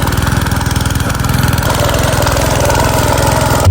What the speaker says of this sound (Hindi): ट्रैक्टर की मदद से नहीं, मशीन से हल चला रहे हैं